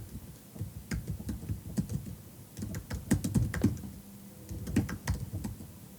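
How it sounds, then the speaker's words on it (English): Rapid, irregular keystrokes on a computer keyboard as a line of text is typed in sign-making design software, close and clear, sounding alone with no talk. "click here and type my first line of text"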